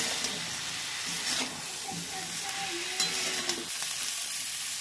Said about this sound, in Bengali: এটাকে একটু ভেজে নেব, সবজিগুলোকে, সমস্ত সবজিগুলোকে।